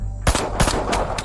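Gunshots in a film action scene, three or four sharp loud reports in quick succession, close and punchy.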